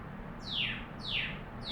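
Mia, a pet monkey, imitating songbird calls: three quick descending whistled chirps, evenly spaced and fairly close, over a low background hum.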